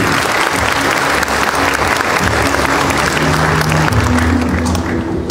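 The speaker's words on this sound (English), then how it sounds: "Could we have a warm round of applause?" Loud, steady applause fills a conference hall during a token presentation at the MIA AccTech Conference 2018 launch, continuous clapping from a large audience with faint murmurs beneath.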